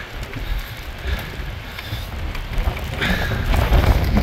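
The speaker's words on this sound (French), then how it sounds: "c'est carrément la pluie. Plus carrément fort là. Putain, le vent, la pluie." Gusting storm wind and heavy rain on Tupuai buffet the microphone with a rushing, rain-like hiss, growing rougher and louder toward the end.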